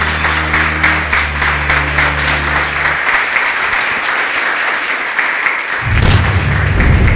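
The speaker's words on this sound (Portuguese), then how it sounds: "Palmas para o Senhor Jesus" Congregation applause at an evangelical church service in Brazil, dense steady clapping that fills the room for several seconds, with a low organ or keyboard chord underneath at first and a fresh swell of sound near the end.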